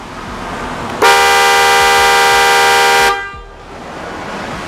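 A single loud, steady blast from an Italian-made Marco TM80 car horn lasting about two seconds, close by, against quiet background noise.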